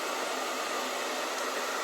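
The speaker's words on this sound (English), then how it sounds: "I am still using a dryer on it." A hair dryer blows on curly hair, a steady, loud, close whooshing roar that holds constant with no talking.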